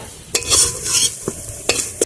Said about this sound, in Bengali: আলুগুলো ভাজা হয়ে গেছে খুব সুন্দর করে এভাবে ভেজে নিতে হবে